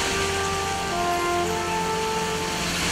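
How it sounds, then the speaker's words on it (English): Steady broadband roar of one of Malaysia's highest waterfalls in an old forest, a continuous rushing wash of falling water with no pauses, fairly loud and close. "It's one of the highest waterfall in Malaysia."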